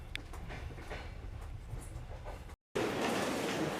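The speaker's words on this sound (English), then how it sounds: "Here's our train." A train sits at a railway station in Yerevan with a low, steady rumble and faint rail noise, briefly cut off, then returning as louder, broad hiss and rumble.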